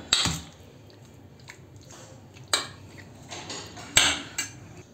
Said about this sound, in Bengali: সবটা এবার ভালোভাবে মিশিয়ে নিচ্ছে।